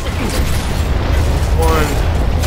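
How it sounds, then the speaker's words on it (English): A frag grenade goes off in the Gears of War video game as one deep, booming explosion with a long rumbling tail, loud and close, while game voices sound over it. "Throwing frag!"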